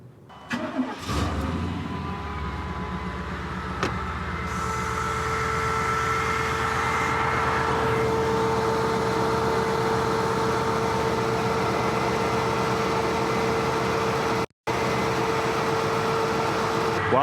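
A dually pickup truck's engine cranks and fires up during power steering bleeding, then settles into a steady, loud idle with a whining tone running throughout.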